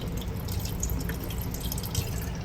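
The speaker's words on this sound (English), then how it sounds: "After the soy, we're going to add some rice vinegar." Rice vinegar pours into a soy-based red miso BBQ rib marinade, a steady close trickling and dripping of liquid, with no voices heard.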